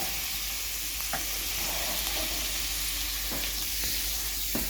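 Onions and apples frying in a pan, a loud continuous close sizzle with occasional stirring scrapes and clicks throughout.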